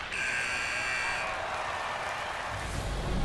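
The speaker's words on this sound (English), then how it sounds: "there's the buzzer bringing the second period to an end" End-of-period buzzer in the NHL 25 hockey video game, a loud sustained electronic tone holding for about a second over steady arena crowd noise that carries on after it stops.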